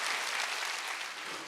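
A church congregation at a Korean Sunday worship service claps together in one dense, continuous burst of applause that fills the room briefly.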